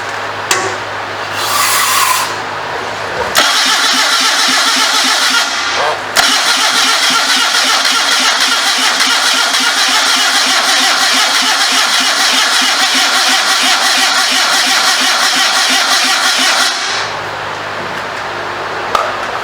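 A 1974 Datsun engine on a homemade motorcycle trike is cranked for a first start: a short burst, then a long, loud, rhythmic whirring crank that stops abruptly near the end, heard up close.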